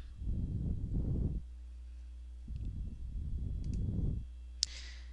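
Two or three small, sharp computer mouse clicks, faint and isolated in a quiet room, separated by pauses in the low background hum.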